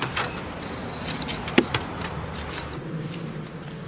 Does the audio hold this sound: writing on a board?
no